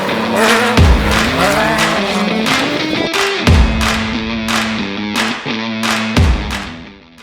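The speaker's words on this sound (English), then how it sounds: "Brad Krepp getting loose in his debut run in his trophy truck." Trophy truck sliding loose during a desert race run, its engine revving hard in rising and falling surges with repeated squealing tire skids and sharp gear-change breaks, loud and close.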